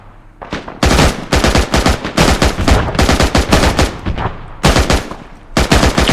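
Video game weapons fire in dense, loud bursts of rapid gunshots, with short pauses between volleys, close and sharp throughout.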